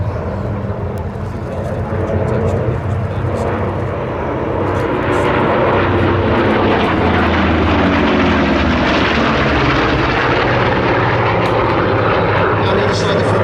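Vintage Second World War navy fighters, a Bearcat, Wildcat and Corsairs, making a formation pass at an air display, with a loud sustained propeller-engine roar that swells as they approach, while a commentator talks over it.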